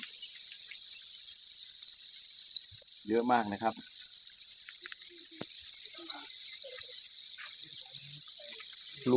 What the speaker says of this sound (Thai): ผมดูจิ้งหรีดเยอะแยะเสียงร้องระงมเลยนะครับ